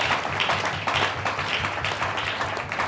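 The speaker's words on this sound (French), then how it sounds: "Est-ce que quelqu'un peut applaudir pour ça?" Congregation at a church service clapping together: steady, fairly loud applause with a loose rhythmic pulse running throughout.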